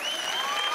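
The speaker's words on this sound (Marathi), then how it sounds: "जोरदार टाळ्या." Loud, dense applause from a live stage comedy show audience in Maharashtra, a steady unbroken roar of clapping filling the whole moment with no pauses.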